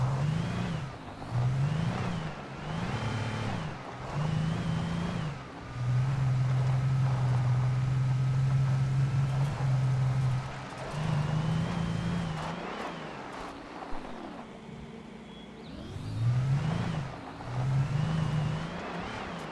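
A bulldozer engine in the video game Alan Wake revs in repeated surges, one long steady roar in the middle, then a quiet stretch before more bursts, all fairly faint and with no voices.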